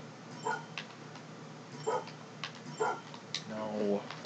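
Companion dog in the video game Far Cry 5 giving several short barks and yips at irregular intervals amid game noise, with someone talking over parts.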